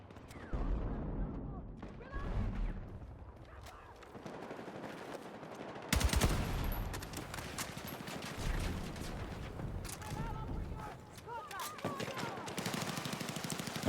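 Bursts of machine gun and rifle fire in the game Battlefield 6, loud rapid rattling volleys repeating throughout with overlapping battle noise and occasional voices.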